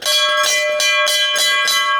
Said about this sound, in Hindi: इसी मुख्य द्वार से घंटी बजाते हुए